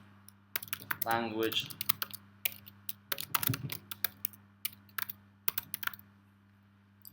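Rapid, crisp computer keyboard typing while entering a new project on a citation website, bursts of close keystrokes with a voice speaking briefly in the middle.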